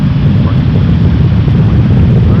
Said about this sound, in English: So this is 737-800 headed to Punta Cana, going south.